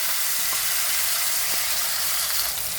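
Tomato hits hot oil seasoned with asafoetida and turmeric in a pan, giving a loud, steady, close sizzle with a constant hiss and a couple of faint spatters.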